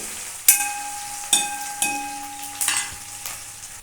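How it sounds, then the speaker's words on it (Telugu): Green chillies frying in a pan while being stirred, a few sharp scraping strokes of a spoon over a light sizzle, four distinct stirs in a few seconds, close and fairly quiet. "తర్వాత మనం కట్ చేసి పెట్టుకున్న పచ్చిమిర్చి వేసుకొని మళ్ళీ ఒకసారి కలుపుకోవాలండి ఇవి చక్కగా ఫ్రై అవ్వాలండి"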